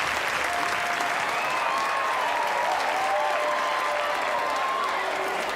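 Audience applause for performers on stage at a fantasy family show, a steady dense wash of clapping lasting throughout with faint tonal music lines threading over it.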